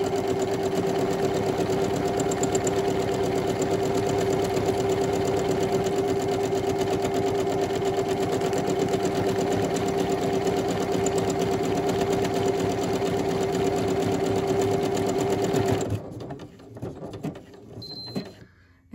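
A sewing machine stitches buttonholes on a cotton sundress, a steady, fast mechanical whir with a rapid needle rhythm running for about sixteen seconds before stopping, followed by faint handling noises.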